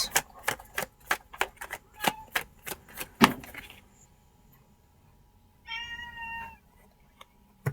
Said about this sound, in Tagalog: Yan naman ang aking mga alagang pusa.